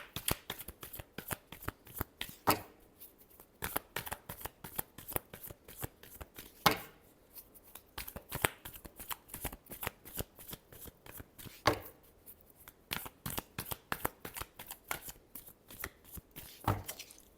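Tarot cards shuffle in quick, crisp riffles and snaps, a steady run of sharp close clicks and flutters with a few louder slaps, with no talking.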